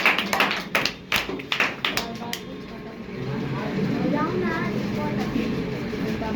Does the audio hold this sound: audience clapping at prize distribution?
yes